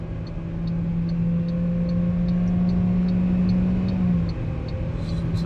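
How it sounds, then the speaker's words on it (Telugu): An MG Astor car engine roars loudly and steadily under acceleration, with a sustained droning hum that holds and then eases near the end, and no voices are heard. "ఇంజన్ అయితే సూపర్ వోకల్గా ఉంటుంది అనమాట, చాలా గట్టిగా అరుస్తుంది ఇంజన్"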